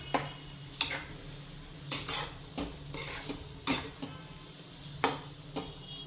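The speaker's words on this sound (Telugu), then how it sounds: "ఇప్పుడు చక్కగా దీన్ని కలుపుకుందాం." A spoon stirs salted tomato chutney in a pan, scraping and tapping the metal in several separate bursts with quiet gaps between them and a faint sizzle underneath.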